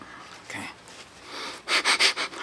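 A person sniffles through the nose in a quiet room during an ear, nose and throat style exam, with a faint breath followed by a close run of four quick, sharp sniffs.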